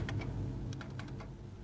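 Keys pressed on an office computer keyboard with a display unit, scattered clicks over a steady low room hum, fairly close with no voices.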